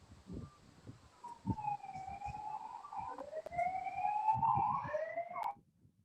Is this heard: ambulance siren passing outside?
yes